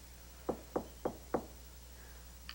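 Four evenly spaced knocks land on a locked plexiglass door in a hidden room, distinct and fairly close, with a faint tap afterward and no voices.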